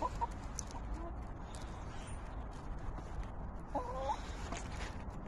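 Soft chicken clucks come and go over a steady outdoor noise floor, fairly quiet and close, with brief higher calls scattered through.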